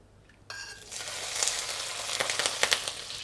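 Unsalted butter and a little cooking oil hit a pan or wok on medium-low heat, bursting into a close, steady sizzle that builds with crackling pops and a few stirring scrapes.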